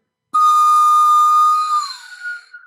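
A pan flute is blown on a high note, giving one sustained breathy whistling tone. It starts sharply, holds steady, then bends and wavers before fading. Close and fairly loud, with no talking over it.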